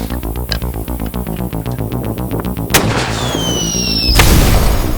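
Shotgun blasts at flamingos over a duck hunting pond, a rapid rhythmic run of loud sharp shots, then a heavy boom and further loud firing close by, with no talk.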